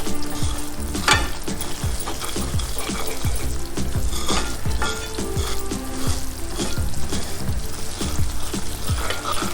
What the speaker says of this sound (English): Keep stirring it so that it doesn't form lumps or it doesn't burn.